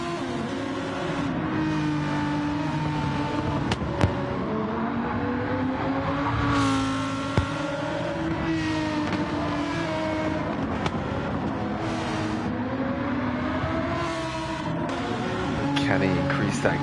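Race cars lapping Fuji circuit in the eDTM racing video game, a continuous layered engine drone with rising and falling revs from several cars, heard under running commentary.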